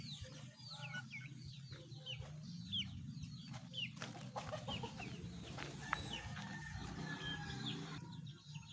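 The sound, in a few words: chickens clucking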